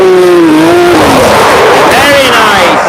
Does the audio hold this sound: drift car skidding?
yes